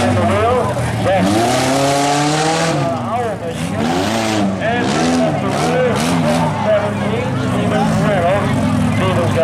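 A Chevrolet race car runs an autocross course at the 2018 USA Autocross Championship heat in Saline, Michigan. The engine drone and brief tire squeal sit under a commentator who talks loudly and continuously throughout.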